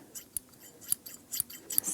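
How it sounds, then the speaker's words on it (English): Blue scissors snip repeatedly in the air, a series of crisp, sharp metallic cuts spaced irregularly, close and quiet, with no talking. "day 3 was these are really cool scissors"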